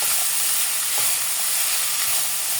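Onions sautéing in a pan for qeema give a steady, close, dense sizzling hiss that holds without a break, with no talking.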